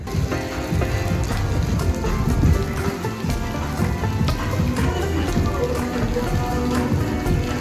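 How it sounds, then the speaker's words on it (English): Rain falling steadily in Los Angeles, a dense continuous patter of drops on surfaces, loud and even throughout with no clear talk over it. "It's raining guys."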